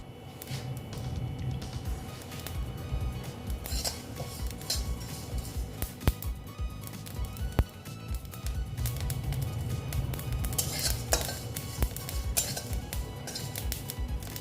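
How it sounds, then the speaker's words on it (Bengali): Ingredients for pineapple chutney sizzle steadily in a hot wok, with frequent metallic clinks and scrapes of a spoon against the pan rising above the continuous frying hiss. "একটু ভেজে নিচ্ছি"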